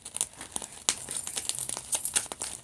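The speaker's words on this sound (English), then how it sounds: "start to do some shuffling with the cards just to get them all good and mixed in" Tarot cards being shuffled by hand, a close, dry crinkling and riffling rustle with uneven bursts of papery snaps, continuous and fairly quiet, with no voices.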